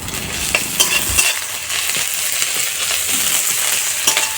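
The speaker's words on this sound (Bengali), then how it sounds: "আমরা এখন বড়ি ভাজার তেলে পেঁয়াজ আর লঙ্কাটা দিয়ে দিয়েছি" Oil sizzles loudly as onion and chili are stirred in a pan, with a scraping clatter at the start and occasional utensil clinks over steady frying hiss.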